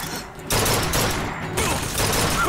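Gunfire from a weapon in the video game BioShock Infinite, loud bursts of rapid shots starting about half a second in and continuing with brief breaks, dense and sustained with no talking.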